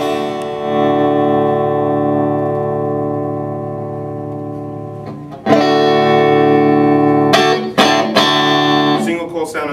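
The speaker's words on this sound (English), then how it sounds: "let's hear 7 watts with the amp basically clean" Electric guitar through an Orange Tiny Terror head set to 7 watts and basically clean, with a single-coil guitar: sustained ringing chords, then several sharper strums and choppy hits, loud and close.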